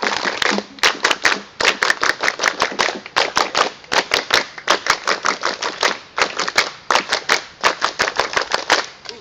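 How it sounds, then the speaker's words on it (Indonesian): School crowd at a student council and scout installation ceremony doing scout-style clapping, sharp claps in repeated groups of three in a brisk, regular rhythm, loud and close with no talk over them. "3 kali tepuk tangan pramuka."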